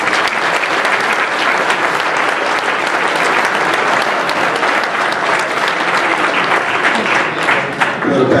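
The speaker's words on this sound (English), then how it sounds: "Let's have one final round of applause for all of the Coach of the Years." Sustained, loud audience applause at a baseball Hall of Fame induction ceremony for the Coach of the Year winners, with dense clapping holding steady throughout.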